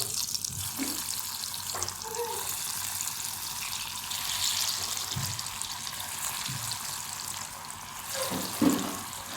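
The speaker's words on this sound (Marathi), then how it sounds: "आपण आता वड्यात तळून घेऊया" Crisp coriander vadis deep-frying in a pan of hot oil give off a steady, close sizzling hiss that runs without a break, with a few soft clinks and stirring sounds and no talking.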